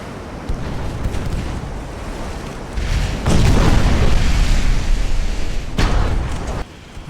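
Heavy cruiser guns boom in Ultimate Admiral Dreadnoughts as armor-piercing shells fire during a night battle; deep rumbling blasts swell and roll continuously, with loud overlapping reports near the middle and a sharp cutoff before the end.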